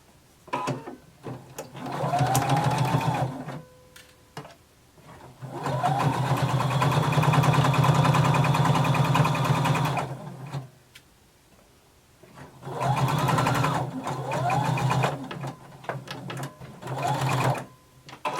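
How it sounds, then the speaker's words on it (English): A home sewing machine stitches across a fabric seam at a 5/8 inch allowance, whirring in four steady runs of varying length broken by short quiet stops. "And we're going to sew across using 5/8 inch seam allowance."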